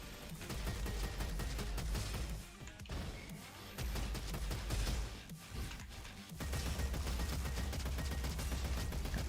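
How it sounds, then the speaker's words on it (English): Explosive launcher fire in the robot shooter Roboquest: rapid, loud booming blasts and crashing impacts forming a dense barrage, broken by two short drops before resuming. "Tiny bot, roll it around with the explosive launcher."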